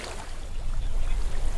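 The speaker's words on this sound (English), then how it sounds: "I hear water." Flowing water in Hellblade: Senua's Sacrifice, a steady, close, full rush that stays even throughout with no break and no voices.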